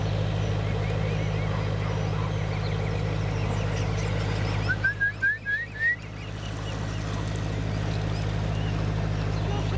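Ducks call briefly near a narrowboat on a canal navigation, a short run of quacks midway over the steady low drone of the idling boat engine, fairly close and clear.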